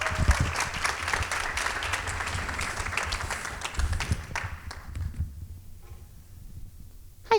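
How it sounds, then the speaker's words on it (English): An audience at a nonprofit awards event applauds to welcome a guest named Terry onto the stage. A full, close round of clapping runs for about five seconds, then fades quickly into near silence. "So let's welcome up Terry with a round of applause."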